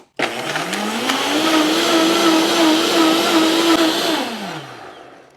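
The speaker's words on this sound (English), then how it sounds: "you're going to blend it on high for about, I want to say 1 minute" A blender runs on high, pulverizing cashews and water into cashew milk, starting abruptly and ramping to a loud, steady whirring drone for several seconds before winding down at the end.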